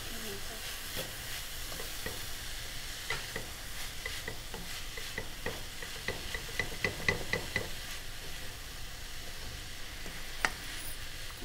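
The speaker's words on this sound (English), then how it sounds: "So we're going to stir all this in together." Banana flower, white kidney beans and frozen coconut stirred together in a pan, with a soft continuous sizzle and scattered clicks and scrapes of the utensil against the pan. The sound is faint and steady, and no one speaks.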